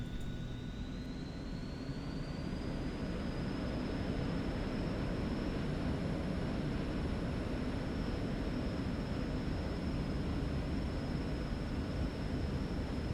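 An Eclipse 550 jet in the X-Plane 11 flight simulator starts its takeoff roll, the engine whine climbing in pitch over the first seconds and then holding as a loud, steady roar with rushing noise.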